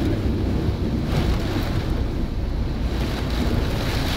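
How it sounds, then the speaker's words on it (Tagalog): Strong wind from Tropical Storm Aghon in Quezon Province, Philippines, roars continuously, buffeting the microphone with heavy low rumble and gusts, no voices. "Grabe yung hangin, narinig niyo?"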